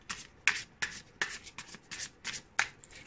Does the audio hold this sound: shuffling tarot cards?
yes